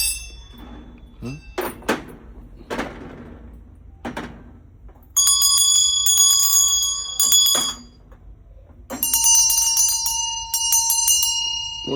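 Handheld hand bell with a handle: a few knocks and handling thuds come first, then two loud bursts of bright, sustained bell clanging ring out up close, with a brief pause between them.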